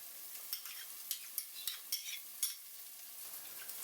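A spoon scrapes and stirs curd into chicken biryani masala in a pot, giving repeated soft, close scrapes with a faint sizzle beneath.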